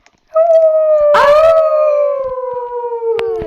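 A wolf in the Roblox video game lets out one long, loud, tonal howl that slides slowly downward in pitch and holds for about three seconds, heard alone and up close.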